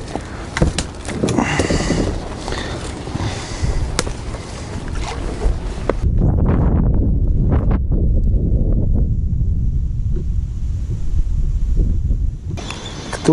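Strong wind buffeting the microphone outdoors while fishing from an inflatable kayak, a loud rushing roar that shifts and gusts, with faint water noise underneath.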